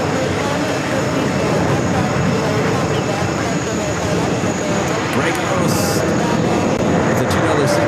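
A heavy jet aircraft arriving at JFK airport, its loud, steady broadband engine roar filling the whole stretch without letting up.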